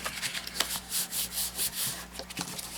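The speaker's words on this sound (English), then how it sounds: "So I grabbed just my spatula, and I will do this gently, but use your bone folder." A metal spatula is rubbed firmly along the fold of a paper card, making a series of scratchy, rhythmic swipes close up, with short pauses between strokes.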